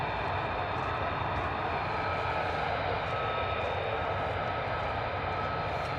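A US Air Force jet taxiing at RAF Lakenheath gives off a steady, continuous engine roar and whine that stays loud and even throughout, with no speech.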